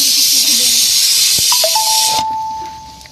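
A loud rushing hiss of steam from a pressure cooker that cuts off abruptly, followed by a brief thin whistle tone fading out.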